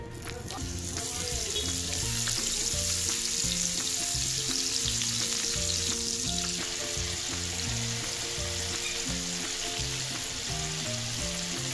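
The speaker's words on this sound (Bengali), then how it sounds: "এদিকে আমার চিংড়িগুলো ভাজা হচ্ছে" Giant prawns fry in refined oil in a pan with a strong, continuous hissing sizzle, loud and close, over steady background music.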